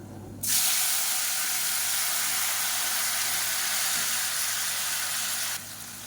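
Two medium tomatoes drop into hot oil in a pan and set off a loud, steady sizzle that starts abruptly and holds evenly before cutting off near the end.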